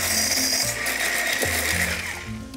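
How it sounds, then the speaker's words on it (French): An electric whisk beats ricotta and sugar batter for fromage frais strawberries, a steady close mechanical whir with slight pitch shifts as the beaters move through the mixture, no talking. "Et puis, je vais continuer à fouetter."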